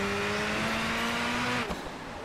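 A Ferrari engine in the racing game PGR 4 holds a steady high whine at speed, then cuts off abruptly with a brief thump as the sound drops.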